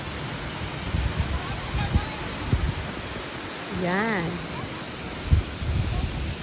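A waterfall at Water Bay Falls park, with the sea close by, makes a constant rushing hiss throughout, broken by brief handling bumps and one short spoken word.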